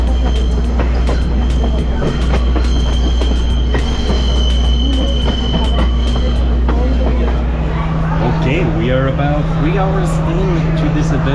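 A train in Sri Lanka rumbles steadily along the rails with metallic squeals and clatter, close and loud, while someone talks over it.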